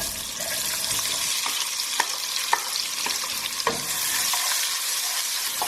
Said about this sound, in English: We're going to let the onions cook till they turn translucent